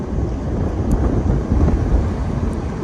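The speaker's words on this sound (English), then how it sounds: "Whoa, big gust of wind." A big gust of wind buffets the microphone on a gravel shore, a loud, rumbling, continuous roar that swells and eases over a few seconds with no talk.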